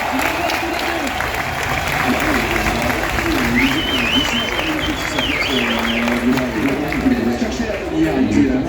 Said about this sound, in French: Écoutez cette tribune qui vous applaudit